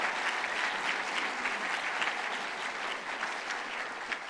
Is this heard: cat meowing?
no